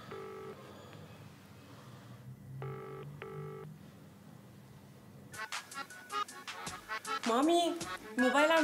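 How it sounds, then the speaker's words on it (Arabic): A mobile phone in a home setting rings: a few short electronic beeps come first, then a bright, melodic ringtone plays in rapid repeated notes that grow louder, with faint voices in the background. "مامي موبايل عم يرن."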